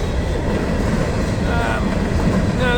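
A rock train of closed hopper cars rolls past close by, a loud continuous rumble with faint squeals rising near the end.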